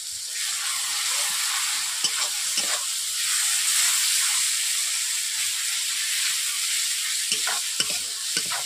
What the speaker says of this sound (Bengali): এটাকে আমি 2 থেকে 3 মিনিট আমি ভালোভাবে ভেজে নিচ্ছি।